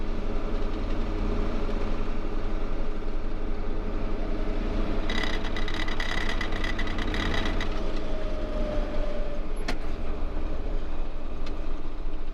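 A farm tractor hauling a grain buggy during harvest drones on steadily with a low engine rumble, overlaid by rattling and clanking in the middle and a sharp knock near the end, with no speech.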